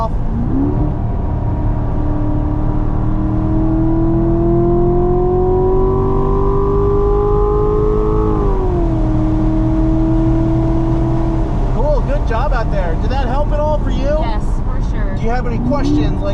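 A car on the Burt Brothers Motorpark East race track holds a loud, steady engine drone that climbs in pitch, drops sharply as it brakes, then settles lower and keeps running, with an instructor's voice talking over it near the end.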